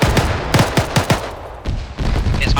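A rapid string of loud, sharp gunshots in the military shooter ArmA 3, several cracks in quick succession over about a second, then a few more scattered reports against a noisy battlefield background.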